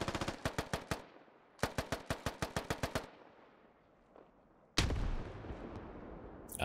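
Suppressive automatic gunfire from the tactical shooter SquadOps comes in two rapid, evenly spaced bursts, then a sudden loud blast followed by a sustained roar of fire, heard close and alone.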